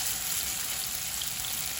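Steady, loud sizzling of meatballs frying in a hot pan, a dense crackle heard up close with no pauses.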